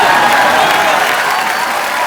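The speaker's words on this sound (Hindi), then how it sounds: "उनके लिए जोरदार तालियां।" A studio audience at a comedy talk show applauds loudly, a dense, steady wash of clapping filling the whole moment.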